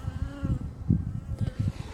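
A honey bee buzzes near the hive entrance in a close, droning hum that wavers as it moves about, with a few louder passes and no speech.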